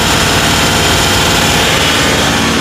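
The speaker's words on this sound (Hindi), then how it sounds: "ट्रैक्टर स्टार्ट खड़ा है इस टाइम और RPM बढ़ाएंगे, RPM बढ़ाइए।" A Kubota tractor engine runs at raised RPM with a loud, steady, dense roar that stays constant throughout.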